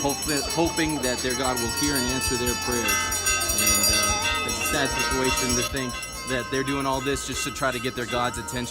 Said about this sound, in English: And you can hear the bells in the background too.